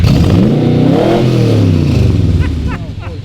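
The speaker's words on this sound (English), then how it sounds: "Do you want to hear what 180 horsepower sounds like?" A classic Corvette Stingray's 180-horsepower engine revs hard up close, its pitch climbing and falling in a loud, throaty roar before a few sharp clattering pops.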